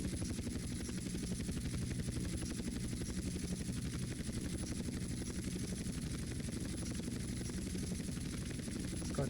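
Military helicopters in GTA San Andreas thrum with a continuous rapid rotor chop, a steady buzzing drone that stays even and unbroken throughout at moderate loudness.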